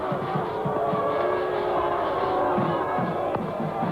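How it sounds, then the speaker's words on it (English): A crowd at a 1996 cricket match in Nairobi between Pakistan and Sri Lanka keeps up a dense, steady roar of noise throughout. "Crowd getting a little noisy as someone decides to take the flag around for Pakistan"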